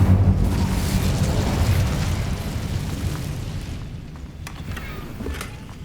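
An Incendio fire spell cast in the Hogwarts Legacy video game, a loud roaring, whooshing burst of flame that rumbles steadily and slowly fades, with a few faint clicks and creaks near the end.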